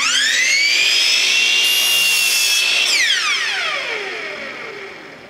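A sliding power miter saw runs up to speed and cuts through a board with a loud, close, whining buzz, then winds down as the blade slows after the cut.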